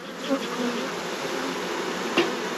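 Honeybees buzz steadily at a home hive during a weekly late-day inspection, a continuous close drone with a couple of brief knocks or clicks.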